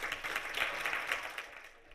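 Audience applause at a climate symposium, a short, moderately quiet patter of many hands clapping in a hall that fades out over about two seconds.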